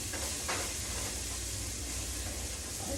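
Garlic and shallots frying in olive oil in a pot for beef chili, giving a steady, dense sizzle and hiss close up with no talk.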